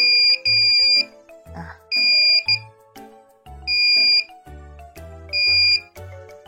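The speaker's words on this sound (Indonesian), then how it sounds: "buzzer hidup ketika mendapat respons dari flame sensor" A buzzer in a simple flame-sensor fire-detection circuit sounds loud, shrill electronic beeps in regular pulses, about five bursts roughly a second apart, with a low thumping under the gaps.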